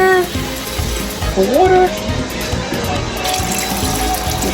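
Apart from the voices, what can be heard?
water being poured into a pot of chicken stew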